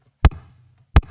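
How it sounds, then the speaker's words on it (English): Snappy short kick drum made from triggered white noise through the Enforcer plugin, dry with no effects, two sharp punchy hits about three quarters of a second apart, each with a brief low tail. "So I could get this really snappy short kick."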